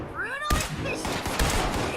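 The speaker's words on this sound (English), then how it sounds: "Yeah, the firefight should happen here soon." Gunfire in a firefight in Fallout 76, with a laser rifle in use. Two sharp shots ring out about a second apart, with chirpy electronic game sounds just before the first.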